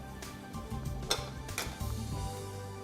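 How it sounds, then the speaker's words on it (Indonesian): Soup of egg and radish is stirred in a pot, with scraping and clinking of a utensil against the pot over a low bubbling simmer, close and moderately loud, no talking. "pelan-pelan kita aduk ya"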